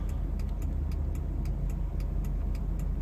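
A 1999 GM Suburban 5.7 liter turn signal relay ticks rapidly and evenly, about four clicks a second, for the left turn signal blinking fast, over the constant low hum of the running engine.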